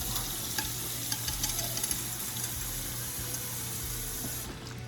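Water pours into a container to cover Vortech aquarium powerheads set to soak, a steady close splashing and gurgling stream with small bubbling pops, then cutting off near the end; no one speaks.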